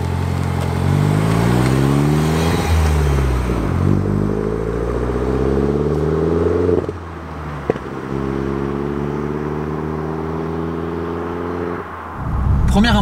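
A Citroën DS3 Performance with its THP engine idles and pulls away, the low engine hum climbing in pitch through a couple of rising sweeps, with a short dip and clunk midway.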